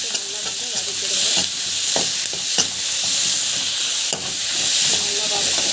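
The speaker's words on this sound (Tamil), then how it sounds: "போட்டு நல்லா வந்து வதக்கிடுங்க." Onion, chilli and salt for a mint chutney sizzle steadily in a hot pan, a continuous frying hiss broken by scraping stirs, with no talking.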